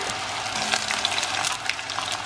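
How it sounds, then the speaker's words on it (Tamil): Sweet diamond cuts of dough fry in very hot oil, giving a continuous bubbling hiss with small crackles, steady and close throughout, with no voices. "இந்த சூப்பர் ஹாட்டான ஆயிலில் இதை போட்டு ஃப்ரை பண்ணுவோம்"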